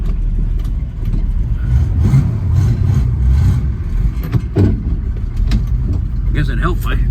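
A 1966 Chevrolet Nova Super Sport after a rotisserie restoration driving slowly, its engine a steady mid-pitched hum with slight revving, heard from inside the car with background noise and some movement sounds.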